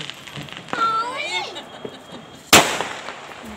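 A Diwali firecracker goes off with one sharp, loud bang, close by, after a stretch of people talking and shouting outdoors.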